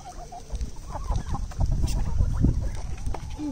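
Large white chickens cluck close by outdoors on a morning let out of their pen, a busy cluster of short clucks and low murmurs with some shuffling noise, fairly near and moderately loud.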